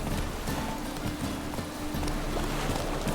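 Roach, the horse in The Witcher 3, gallops with a steady, rhythmic clip-clop of hooves. The pounding is continuous and close, with no pauses.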